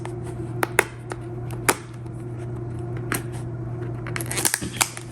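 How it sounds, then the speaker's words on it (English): Fingernails picking and tearing at the sealed packaging of a DJI Osmo Pocket 3 camera box, with sharp close clicks, scratches and crinkles scattered over a steady low hum, a denser burst of rustling near the end. "So I'm going to try to get this open with my fingernails."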